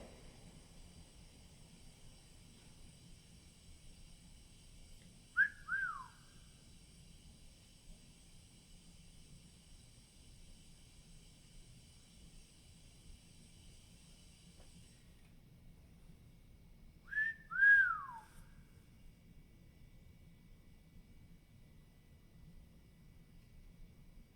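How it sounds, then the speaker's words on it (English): Two short whistles, each sliding downward in pitch, separated by a long gap in an otherwise quiet, faintly hissing space inside an old saloon. "you whistling at a woman?"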